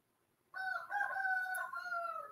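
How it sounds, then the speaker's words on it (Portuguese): A rooster crowing, probably a neighbour's bird, in one long, clear call that starts abruptly and holds a steady drawn-out tone, fairly close and alone with no talk over it. "o galo cantando"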